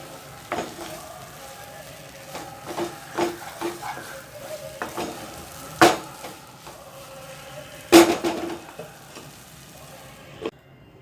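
Rava kesari is stirred in a pan, with irregular spatula scrapes and knocks against the metal over a faint sizzle, some strokes louder, spread across eleven seconds.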